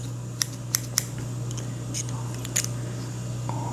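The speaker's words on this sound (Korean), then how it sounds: "이제 넣고 다니는 그런 가위죠." Small, portable fabric scissors from a sewing kit snip several times, giving sharp, close clicks, a quick group of three and then a few scattered ones, over a low steady hum.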